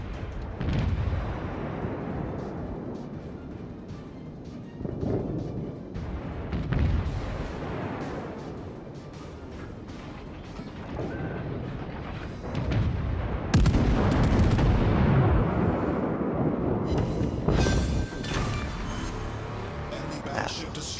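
Battleship gunfire in World of Warships, with heavy booming salvos and rumbling blasts rolling through a dense, loud battle soundscape while someone talks over much of it.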